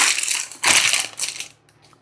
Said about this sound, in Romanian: Și acum îl scot din hârtia de copt